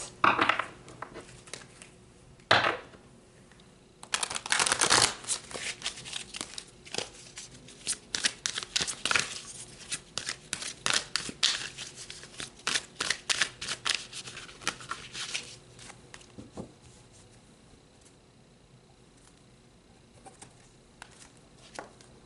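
Tarot cards shuffled and pulled, with a few sharp card snaps early, then a long stretch of rapid riffling and flicking that thins to softer handling near the end, close and fairly crisp.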